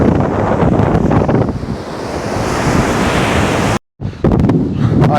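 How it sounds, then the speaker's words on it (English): Hurricane surf pounds against a pier in a continuous heavy roar, loud and close, with strong wind buffeting the microphone and a brief dropout before the crashing resumes. "give you guys some really cool footage of the waves breaking on the pier"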